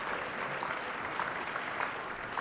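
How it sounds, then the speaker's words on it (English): Dense, even applause from the audience at a live Q&A event fills the space, a continuous wash of many hands clapping at moderate volume without pauses. "Yes, you can applaud."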